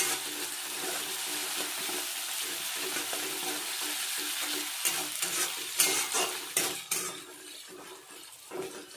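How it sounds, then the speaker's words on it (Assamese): Ginger sizzling as it fries in a pan while being stirred, with a steady frying hiss and a few louder scrapes and clinks of the utensil toward the end; no talking. "আদাখিনি দিয়াৰ পিছত অকণমান লাৰি দিম।"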